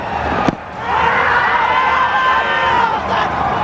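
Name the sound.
cricket crowd cheering at the Asia Cup final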